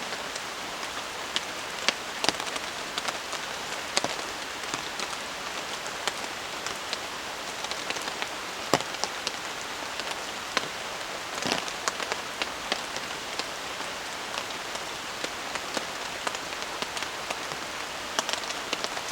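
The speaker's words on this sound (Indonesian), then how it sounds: "Jadi cuaca hujan seperti ini tuh enak banget ya" Rain falls steadily at a campsite, a constant hiss of drops on surfaces with scattered sharper taps and splats standing out throughout.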